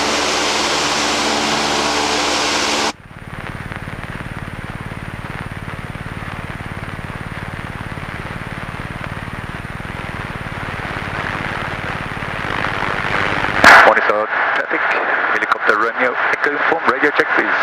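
Engine of a Van's RV-6A light aircraft on its takeoff roll: a steady loud droning roar fills the cabin, with a radio voice heard at the start and a brief sharp click before the engine note grows rougher.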